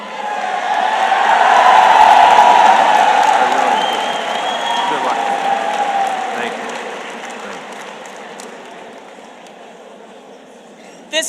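A lecture-hall audience applauds General John W. Raymond at a Greater Issues event. The steady, close ovation swells during the first two seconds and then slowly tapers off over about ten seconds.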